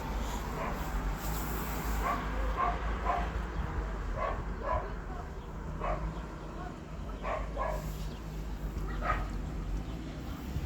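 Several dogs at summer cottages bark and yip in scattered bursts at a distance, with a person talking nearby over the barking.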